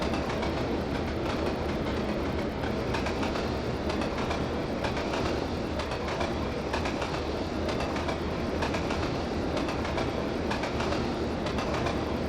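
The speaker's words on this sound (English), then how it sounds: "That is a really long train." A long freight train rolls past in the Trainz Plus railway simulator, a dense continuous rumble of wagons with rapid clickety-clack wheel beats that stays loud and steady throughout.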